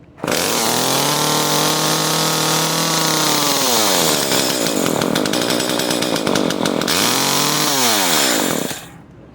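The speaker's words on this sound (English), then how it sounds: "we're going to fire this up real quick so you can see" An Echo CS-303T chainsaw, unable to hold an idle and needing carburetor adjustment, roars loudly at close range and its pitch rises and falls as it is throttled, then the engine cuts off abruptly.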